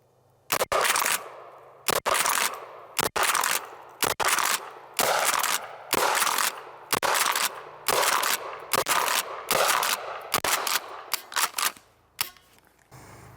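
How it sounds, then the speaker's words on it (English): Keltec KSG shotgun firing slugs outdoors, about ten loud sharp blasts at a roughly even pace of one per second or so, each with a brief ringing tail and no talking. "So let's put some slugs out of this thing."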